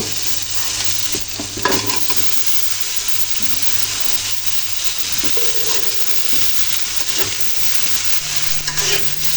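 Fried vegetables are stirred together with spices in a pan, with a continuous hiss of frying under repeated scraping and tossing strokes from a spoon.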